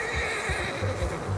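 A horse in the Red Dead Redemption 2 video game lets out a loud, close whinny, a sustained quavering cry layered over low snorting and soft hoof thuds.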